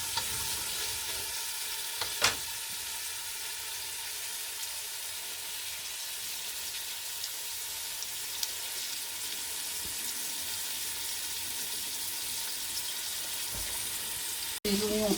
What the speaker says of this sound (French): Les oignons sont revenus.